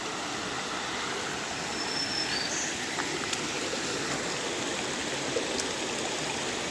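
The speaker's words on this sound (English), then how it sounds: "The water's actually flowing today since it rained recently." A rain-swollen stream flows beside a hiking trail, giving a steady, fairly close rush and trickle of water that continues unbroken with no talking.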